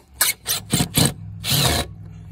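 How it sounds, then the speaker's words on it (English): A power driver set in reverse backs screws out of a wooden fence picket in several short whirring bursts, the last burst longer and steadier, close up with no talking. "come in here with your driver, make sure it's in reverse position, and then just pull out those screws"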